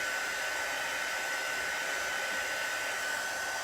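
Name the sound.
heat tool drying chalk transfer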